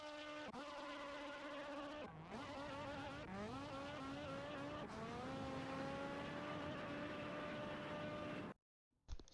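A drag race car in the Assetto Corsa video game, its engine revving hard and climbing in pitch through several quick upshifts, loud and alone, before a sudden cut to silence near the end.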